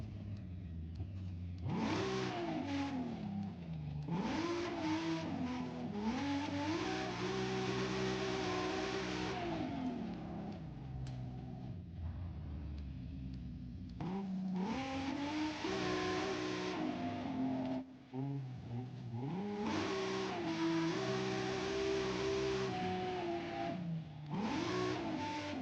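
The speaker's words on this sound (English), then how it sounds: "I found this to be quite an aggressive sound for this car." A car engine in Forza Horizon 5 revs aggressively in repeated surges, climbing and dropping in pitch over a steady loud drone that swells through several acceleration bursts and gear changes, with no voices.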